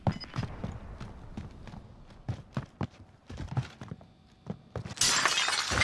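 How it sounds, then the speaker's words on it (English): Glass shatters loudly in the Warzone video game, a sudden bright crash at the end that follows a run of quick in-game footsteps and thuds. "Gonna break the glass. Pretty loud."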